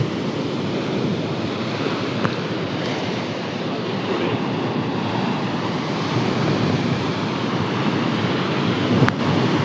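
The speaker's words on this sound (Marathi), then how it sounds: "समुद्राच्या लाटांचा आवाज मनाला एक वेगळीच शांतता देतो" Steady roar of sea surf at Kunkeshwar on the Konkan coast, waves continuously washing and crashing, broad and loud throughout, with a slight swell toward the end.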